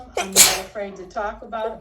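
A single loud, sharp sneeze bursts out near the microphone, a brief explosive hiss between stretches of a woman's conversational speech.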